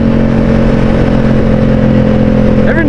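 A Ducati Streetfighter V4 motorcycle engine drones loud and close at steady revs, a dense, constant roar throughout with a brief voice near the end.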